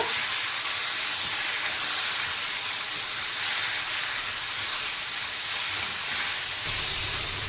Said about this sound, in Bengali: এবার ভালো করে মশলার সাথে আলু পটল কষিয়ে নেব